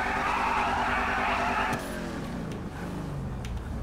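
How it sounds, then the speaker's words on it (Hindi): Race car in GTA 5 with engine revving hard and tyres scrubbing as it warms up and pulls away, loud and close, the roar easing slightly after the first couple of seconds with no talking. "ये देखो टायर वार्म होते होते आगे बढ़ रहे"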